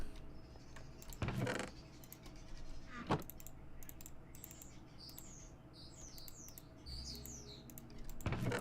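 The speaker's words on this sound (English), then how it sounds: "Oh boy, the birds are back." Small birds chirp and twitter outside a window in quick bursts, faint and intermittent, with a few sharp clicks and indoor rustling nearby.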